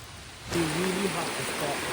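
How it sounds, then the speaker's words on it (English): Heavy rain pours down at night in an outdoor setting, a dense steady hiss that swells in abruptly and stays loud, with a faint voice briefly heard beneath it. "Man, the rain is absolutely relentless tonight."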